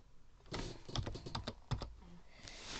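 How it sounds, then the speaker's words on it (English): Quick bursts of keystrokes tap on a computer keyboard during a Minecraft session, a close, quiet, irregular clatter of about a dozen clicks in short clusters with no talking. "Type it in"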